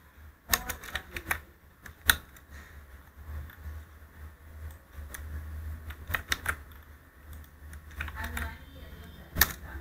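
Computer keyboard keys click in irregular bursts of quick typing at close range, with pauses between runs and faint speech in the background.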